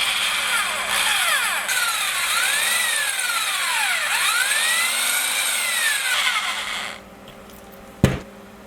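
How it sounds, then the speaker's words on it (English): A small power drill bores a hole for weight into a handmade paddle-tail bass swimbait, its motor whining with rising and falling pitch for several seconds before stopping, followed by a single sharp knock. "So I am now drilling out a hole for weight."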